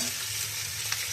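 Onions and tomatoes fry in a pan with a steady, close sizzle and crackle, broadband hiss holding even throughout with one brief sharper pop near the end; no voices.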